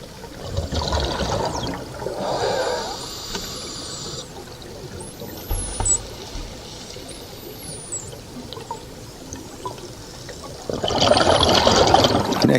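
Gannets diving into the sea during the South African sardine run, heard as rushing, pouring splashes and bursts of water, with a loud churning surge near the end.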